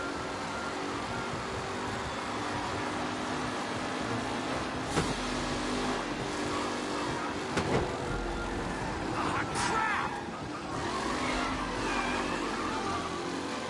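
Racing cars in Mafia Definitive Edition roar through a steady engine drone under a race commentator's voice, with a few sharp thumps and whooshes as the pack jostles.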